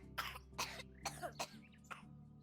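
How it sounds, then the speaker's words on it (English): A baby coughing in the video game Medieval Dynasty, five short raspy coughs in an uneven rhythm, faint and alone without talk. "it's a baby coughing"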